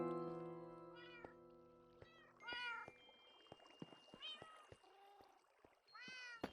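Cats meow repeatedly in the Minecraft video game, several distinct calls spaced across the moment over a faint background hum and soft clicks.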